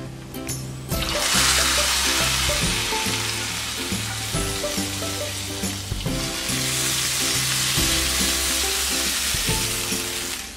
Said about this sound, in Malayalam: ഇനി നമുക്കിത് സാമ്പാറിലേക്ക് ഒഴിച്ചു കൊടുക്കാം